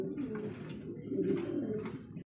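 Racer pigeons at a pigeon farm giving low, throaty coos, a close, soft rolling call lasting about two seconds.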